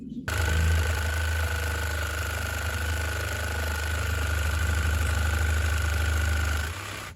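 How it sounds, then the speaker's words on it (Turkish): A power saw cuts a wooden piece for a worm bed built for chickens. It sounds as one loud, steady motor whine with a strong low hum from start to finish, then stops abruptly near the end. "Sağ üst kısım için ölçü alıp parçayı kesiyorum."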